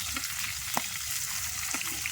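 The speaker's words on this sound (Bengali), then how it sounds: "ভাজা হয়ে গেছে বন্ধুরা আমি তুলে নিলাম।" Pangas fish fries in oil with a close, constant crackling sizzle and a few brief stirring clicks, short and without talk.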